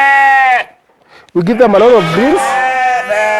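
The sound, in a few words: two-month-old lambs bleating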